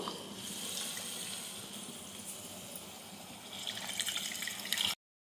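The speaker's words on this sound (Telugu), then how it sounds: "ఇప్పుడు మనం ముందుగానే నానబెట్టుకున్న చింతపులుసును కూడా ఇందులో పోసుకోవాలి" Soaked tamarind juice is poured into a cooking pan of fried onions for a lentil-dumpling stew, a steady close splashing pour that runs for several seconds and then stops abruptly.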